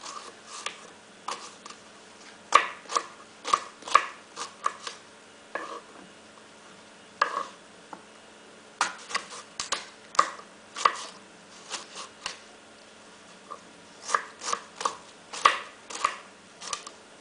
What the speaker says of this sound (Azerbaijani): Kvadrat şeklində doğrayırıq.